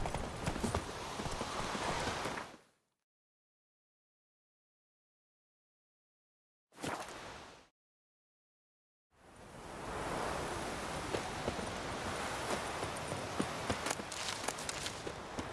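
Horse hooves clip-clopping in The Witcher 3 game, a steady rhythmic stride in two bursts separated by a long silent gap and a short fragment.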